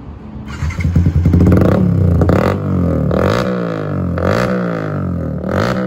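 A motorcycle engine idles roughly, then is revved hard several times in quick bursts, each blip rising sharply before dropping back to a loud, lumpy idle.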